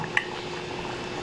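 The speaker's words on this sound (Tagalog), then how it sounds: "Kumukulo na siya. Ayan." Water boils in a mini rice cooker with a soft, steady bubbling and a brief clink near the start.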